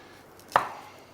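A single sharp knife chop through an onion on a cutting board, one close crisp thud with a brief fading tail, otherwise quiet.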